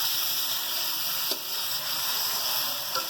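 Tomatoes sizzle steadily in a hot pan for a chicken bhuna masala, a constant bright frying hiss with a couple of faint stirring clicks and no talking.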